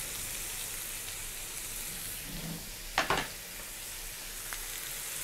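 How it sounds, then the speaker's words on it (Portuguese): Bell peppers and onion sauté in a pan for a Christmas farofa, a steady soft sizzle with one sharp utensil clink against the pan partway through. "Refogado então os nossos pimentões, a cebola"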